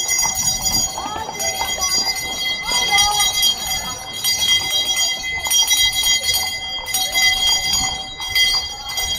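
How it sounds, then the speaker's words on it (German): Church bells toll as a death knell while dignitaries are welcomed at the Salzburg Festival opening, ringing loud and sustained with overlapping metallic strokes over a busy outdoor crowd and a voice talking underneath. "Die Totenglocken läuten!"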